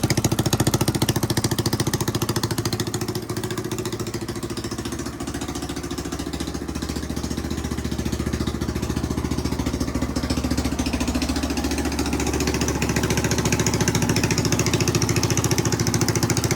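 A rebuilt Honda XR200 motorcycle engine idling after a top-end rebuild, a steady, dense mechanical chatter that holds evenly loud and close for the whole stretch, with no voices.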